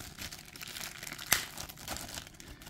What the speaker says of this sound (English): It is wrapped in a plastic bag.